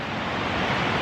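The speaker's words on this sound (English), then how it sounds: "the sound of the waves because the beach, the ocean is down to the left" Ocean surf from a beach below a house in Diani, heard as a steady, broadband wash of waves that fills the short moment without any break.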